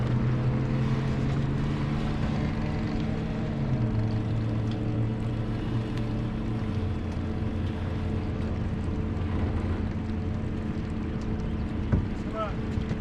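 A fishing boat's motor runs steadily up close, a low droning hum whose pitch drops in steps over the run, with people talking faintly over it.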